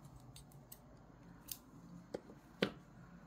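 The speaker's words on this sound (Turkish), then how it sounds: "Tekrar ipimi kesiyorum." Scissors snip knitting yarn in a quiet room, giving a few faint clicks and then one crisp, louder cut near the end.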